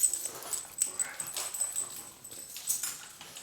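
Small dogs play a three-way tug of war with rings outdoors, giving soft whimpers, yips and snuffling sounds. Faint, scattered scuffling carries on throughout, with no one talking.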